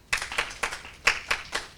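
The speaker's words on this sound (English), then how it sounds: "Coca-Cola clap" A group performs a rhythmic pledge-ceremony clap: six sharp, evenly spaced unison hand claps, fairly close and moderately loud, with no talk.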